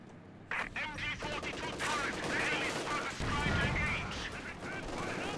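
Rapid gunfire and mortar blasts from the World War II strategy game Company of Heroes 2 pound continuously, dense overlapping shots and explosions under a commentator's voice.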